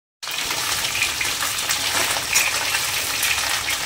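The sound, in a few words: frying catla fish heads in oil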